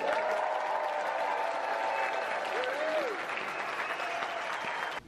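An audience at an Ontario Call to the Bar ceremony breaks into sustained applause, dense clapping that holds steady for several seconds before cutting off.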